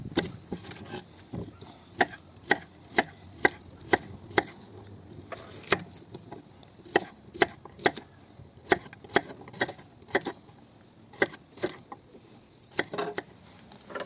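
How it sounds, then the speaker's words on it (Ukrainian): A knife chops vegetables on a cutting board, cut coarsely for a lamb stew with quince cooked in an Afghan kazan; about thirty sharp, close knocks fall in an uneven rhythm with no talking. "Зараз приступаємо до нарізання овочів."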